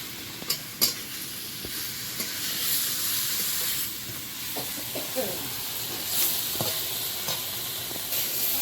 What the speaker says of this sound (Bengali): মাছটা মশলার সঙ্গে কষানো হলো